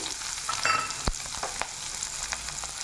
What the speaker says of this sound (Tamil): இப்போது நான் கடாயில் இரு எண்ணெய் ஊற்றி சூடு பண்ணி வச்சுருக்கிறேன் அதில் வெங்காயம்